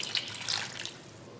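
Water is poured into a pressure cooker holding sweet potatoes, a close, bright splashing stream that swells and then tapers off quietly.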